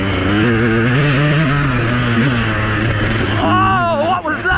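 A KTM 200 EXC dirt bike engine drones loud and close while riding, its pitch wavering and then climbing sharply near the end, just after a stall that it kept running through.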